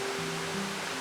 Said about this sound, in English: The sound of the water transports me away from all my troubles, at least temporarily.